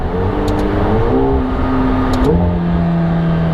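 A 2018-style McLaren 720S engine pulls in second gear, heard from inside the cabin as a steady loud drone whose pitch climbs, dips at a shift, then settles, with faint clicks above.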